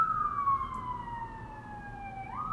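An ambulance siren sweeps past as one long falling wail, loud at first and easing slightly as it moves off, over a steady low traffic rumble with no talking.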